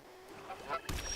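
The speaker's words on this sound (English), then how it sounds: "Now you can hear my goose." A goose honking from the Magic card game, a short cluster of nasal honks up close, ending on a louder burst of noise.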